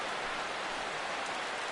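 Steady rain falling on a baseball field in the video game MLB The Show 16, a soft, even hiss with no breaks or voices.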